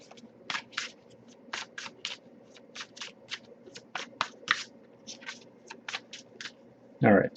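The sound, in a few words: shuffling tarot cards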